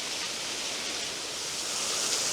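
Waterfall in the woods, heard as a steady, dense broadband roar of rushing water that stays even throughout, fairly near and with no voices.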